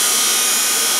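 A fan spun by a modified electric motor, drawing about 36 watts, gives a steady, loud whooshing and whirring hum with no change across a short moment.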